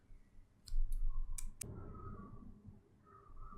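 Several quick computer mouse clicks while working in Visual Studio Code, a close cluster of light ticks over a faint background hum, with no voices.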